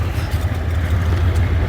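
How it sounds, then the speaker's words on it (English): A truck engine runs close by, a loud, steady low rumble that holds without change throughout. "Sorry if the truck is loud."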